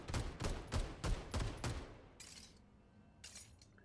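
Gunfire in the mecha shooter Super Mecha Champions: a string of about six loud, evenly spaced shots, then a brief pause and a couple of fainter hissing bursts, with no talking.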